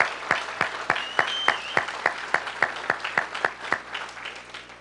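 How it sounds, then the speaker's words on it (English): Applause at a Knoxville primary victory speech, heard as sparse, evenly spaced individual claps from a small group, sharp and close, continuing steadily with no voices. "they deserve a round of applause."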